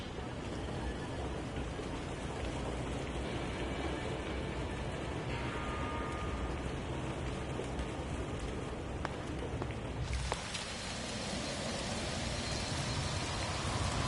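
Acid rain in the video game No Man's Sky falls as a steady, dense hiss across the whole stretch, growing brighter and heavier partway through, with a voice talking faintly underneath.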